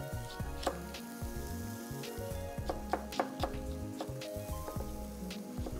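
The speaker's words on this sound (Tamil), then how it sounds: "பைனாப்பிள் வந்து சின்ன சின்னதாக நம்ம கட் பண்ணிக்கணும்" A knife chops pineapple into small pieces on a cutting board in a TV cooking-show kitchen, a quick irregular series of crisp taps over steady background music.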